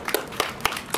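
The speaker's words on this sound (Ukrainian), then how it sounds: "Хлопці, оплески вам!" A few scattered hand claps, short and sharp, for a winning team at a charity history quest award ceremony in Lutsk; brief and sparse rather than full applause.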